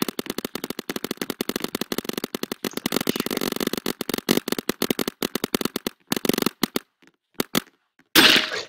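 Paintball gun shots in the Roblox video game fire as rapid runs of sharp, dry pops, dozens in quick bursts with brief gaps between them, loud and close, ending in a burst of noise.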